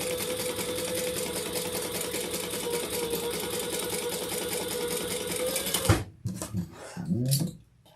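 Sewing machine stitching a leather tote runs steadily for about six seconds with a continuous whirring hum, then stops, followed by a few short handling clatters.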